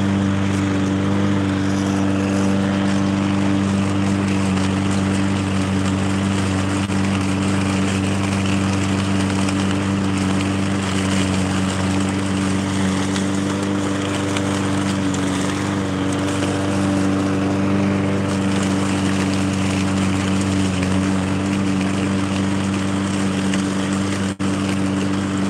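Steady, loud drone of a lawn mower cutting a home yard, running continuously and close by with a constant engine hum throughout, no voices.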